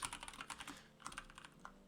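Rapid clicking keystrokes on a computer keyboard patter in quick uneven bursts, close and fairly quiet, with a brief pause midway before typing resumes.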